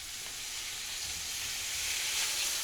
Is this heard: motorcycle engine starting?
no